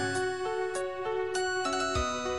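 A phone ringtone plays alone, a bright tinkling melody of repeated chiming notes in a steady looping rhythm, loud and close with no voices.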